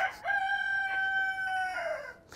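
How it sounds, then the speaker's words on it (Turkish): A rooster at a farm café near Eindhoven in the Netherlands crows once, a close, clear, drawn-out cock-a-doodle-doo standing alone without talk. "Evet, Hollanda inekleri gibi Hollanda tavukları da var."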